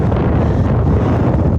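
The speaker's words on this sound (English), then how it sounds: "So it is getting really rough out here. It's now 10:16. It is windy." Heavy wind buffeting a microphone on rough, choppy open water while kayaking, a loud continuous low rumble with no break.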